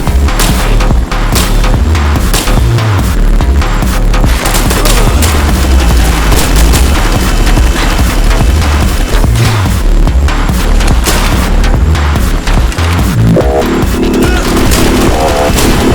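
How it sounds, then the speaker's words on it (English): Explosions and gunfire in the story mode of the video game I am your Beast, a loud, constant barrage of booms, blasts and rapid shots with crashes layered over heavy music, no pause throughout. "Hearing an explosion."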